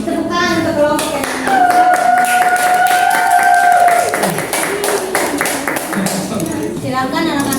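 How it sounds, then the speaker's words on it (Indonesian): A classroom of students applauds a presenting group, dense fast clapping throughout, with a voice and a sustained tonal sound over it partway through. "tepukan untuk kelompok yang"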